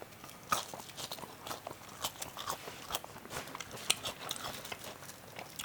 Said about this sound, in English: we're just gonna be eating some French fries in this video